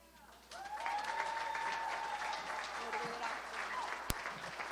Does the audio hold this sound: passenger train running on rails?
no